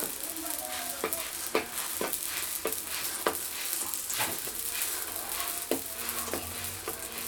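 Semolina batbout flatbread filled with spiced minced meat sizzles steadily on an oiled pan, with light taps and scrapes breaking through the hiss at irregular intervals.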